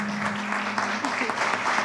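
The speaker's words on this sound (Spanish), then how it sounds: "un aplauso para Pablo, Pablito, y para nuestro querido amigo también" An audience applauds at a literary gathering after a song, a dense steady patter of clapping lasting throughout while a voice talks over it.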